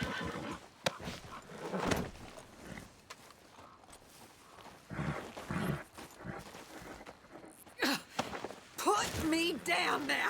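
A horse in Red Dead Redemption 2 neighs near the end of a busy scene, mixed with hoof movement and rain-like patter while game characters speak over it.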